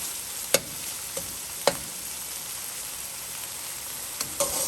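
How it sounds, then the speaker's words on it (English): Vegetables sizzle steadily in a hot pan during a Thai basil stir fry, a constant close hiss broken by a few sharp clanks of the spatula stirring. "continue stir until make sure the vegetable cook."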